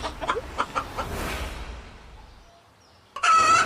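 A cartoon chicken clucks in a few quick bursts, then the sound fades to near silence before a louder clucking burst returns at the end.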